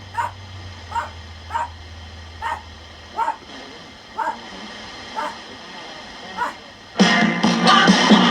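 Dog barking in repeated short, evenly spaced yips at close range, set off by a Philco 42-350 radio, with a low hum beneath and a burst of louder noise near the end.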